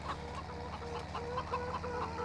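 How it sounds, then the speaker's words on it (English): Chickens cluck repeatedly on a road in the Farming Simulator 17 video game, a soft continuous patter of clucks over a low steady engine-like hum. "And let's drive over some chickens."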